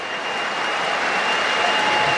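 Stadium crowd at a Rugby World Cup match between Fiji and Portugal applauding and cheering as fans rise for a Portuguese hooker, a steady, dense wash of clapping and roar sustained throughout at high level.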